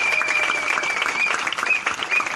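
A church congregation breaks into loud, steady applause during a worship service, a dense wash of many hands clapping together, continuing for a couple of seconds without talk.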